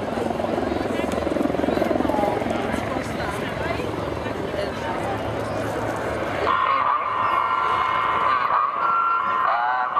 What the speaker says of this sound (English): the Lynx remains a very capable and agile helicopter